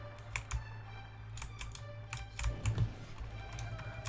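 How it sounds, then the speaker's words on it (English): Quiet, close computer keyboard typing during a Sid Meier's Pirates game session, irregular clusters of soft key clicks over a low steady hum, with no talk. "I play this with the keyboard relatively exclusively"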